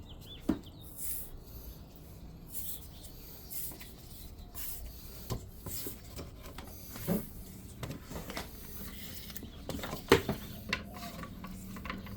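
Fibrous plant stalks are peeled into strips for cordage, giving faint, scattered rasping and tearing sounds with a few sharper snaps, close but quiet against a soft background.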